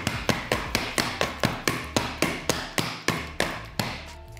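Repeated tapping on a cake tin to settle and level a strawberry cake filling, about fifteen evenly spaced sharp knocks in a steady rhythm, close and fairly loud, with no talking.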